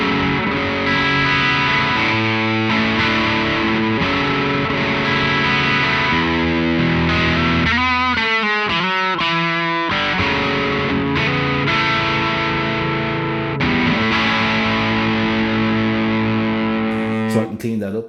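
An electric guitar played through a Fulltone GT500 distortion pedal, with the mids slightly boosted, rings out in loud, sustained distorted chords and riffs that stop briefly in the middle and end abruptly.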